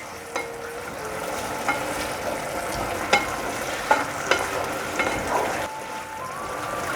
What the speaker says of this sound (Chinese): 一面倒入太白粉水一面搅拌